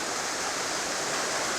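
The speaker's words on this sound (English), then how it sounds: "It's a tall waterfall." A steady, loud roar of water from a tall waterfall on a small Vermont creek near Granville, unbroken and close, with no speech over it.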